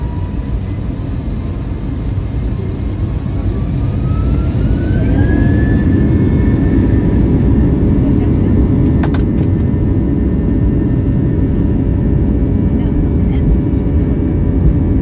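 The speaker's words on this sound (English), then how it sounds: "a really fun takeoff on the Airbus A320" Airbus A320 jet taking off on a hazy evening, heard from inside the cabin as a loud, steady engine roar and rumble that builds slightly, with a rising engine whine and a few faint clicks.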